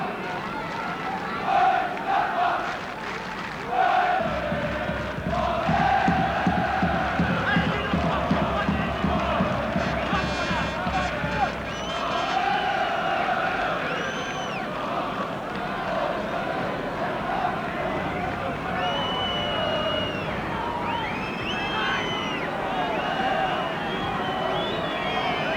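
Mönchengladbach football supporters chant and roar through a match against Borussia Dortmund, a massive sustained crowd din with rising sung chants and whistles, while a commentator talks over it.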